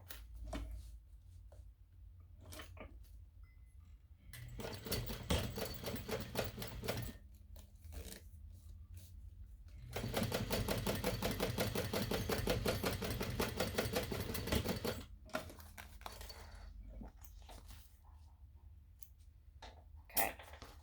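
A sewing machine top stitching a fabric ID pouch through the exterior and seam allowance, running in several bursts of rapid, even needle chatter, with one long steady run in the middle and quiet handling clicks between.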